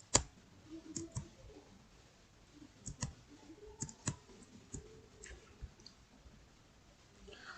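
A computer keyboard clicks as a command is typed, sparse irregular keystrokes close and fairly quiet, with a faint low voice murmuring beneath.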